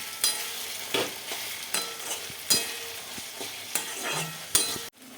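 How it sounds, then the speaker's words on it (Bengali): Capsicum and tomato frying in a pan for chili chicken, stirred steadily: a close, continuous sizzle broken by regular scraping strokes about every second, with no talking. "দেখতেই পাচ্ছ আমি ভালো করে নাড়িয়ে দিচ্ছি"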